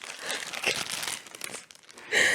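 Crinkly foil wrapper on a melted chocolate figure is torn and crumpled open, a quick burst of close, sharp crackling and ripping rustles with a brief louder tear at the end.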